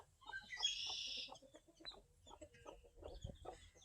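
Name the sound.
broody hens clucking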